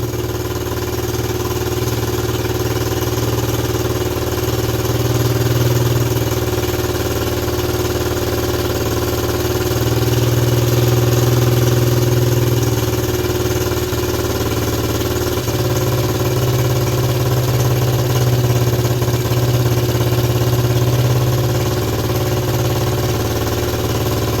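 A Suzuki LT125 ATV with a dirty carburetor idles steadily nearby, a loud, continuous putter that swells slightly around the middle before settling back to an even idle.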